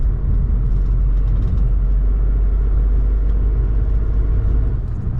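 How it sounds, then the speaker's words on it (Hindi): A car is driven along a village road, giving a steady close engine rumble and road noise that runs throughout with no talking. "ओके, तो अभी मैं चला रहा हूँ गाड़ी"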